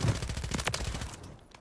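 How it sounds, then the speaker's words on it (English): Gunfire in the video game Warzone, rapid bursts of automatic shots rattling close together for over a second, then fading out. "I'm getting shot from behind."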